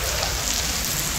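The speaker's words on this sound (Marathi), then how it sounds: "पुन्हा एवढा जोरदार पाऊस सुरू झाला" Heavy rain falls during a drive, heard as a dense, constant roar of hiss with no breaks across the short span.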